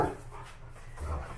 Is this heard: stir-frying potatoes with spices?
no